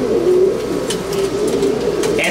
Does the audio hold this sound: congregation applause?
no